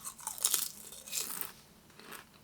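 Walkers Beef Wellington crisps are bitten and chewed close to the mic, giving a few quiet, sharp crunches in quick bursts, then softer chewing that fades.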